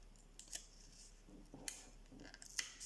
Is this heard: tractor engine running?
no